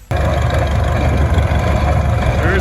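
Engine of a Rock Island Heider friction drive tractor running at a steady idle-like rumble, loud and continuous throughout, with low-frequency chugging and no clear speech over it.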